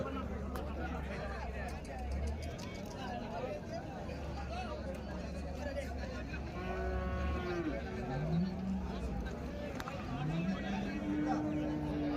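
Cattle low and moo repeatedly at a busy livestock market in Vaniyambadi, several long bellowing calls rising over a constant hubbub of crowd chatter and people talking nearby.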